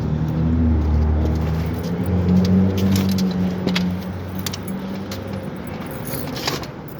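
Keys jangle at a car door being opened, the keys stuck to a holder with a broken lock piece; a close metallic clinking runs over a steady low engine rumble throughout.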